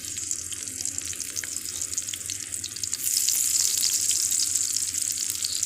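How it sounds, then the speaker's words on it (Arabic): Small pieces of eggplant frying in oil, a continuous close hiss and sizzle that swells louder midway and holds steady throughout. "دلوقتي بقى نحمر البتنجان ماشي"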